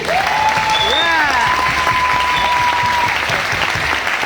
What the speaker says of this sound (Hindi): तो एक बार जोरदार तालियां आप लोगों के लिए हो जाए